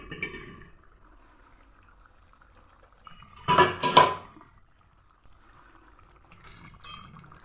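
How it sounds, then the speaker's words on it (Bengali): A metal lid is lifted off a cooking pot of fish roe curry with potato and eggplant, giving a brief clattering clank with a ringing scrape, set against a quiet kitchen with faint soft sounds before and after. "ঢাকা তুলে নিচ্ছি।"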